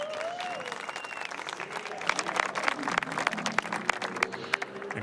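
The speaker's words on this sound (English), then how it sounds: "And Christian Reed's team at Proton cheer from down below." Motorsport team crew cheering and applauding at a Porsche Carrera Cup Deutschland trophy presentation at the Red Bull Ring, with dense continuous clapping and scattered shouts from a nearby crowd, a voice briefly audible early on.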